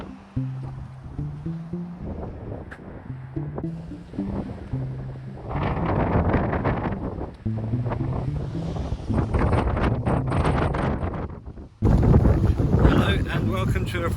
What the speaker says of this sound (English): welcome to a very windy day near Uxbridge